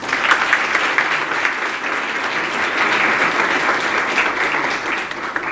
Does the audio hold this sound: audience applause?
yes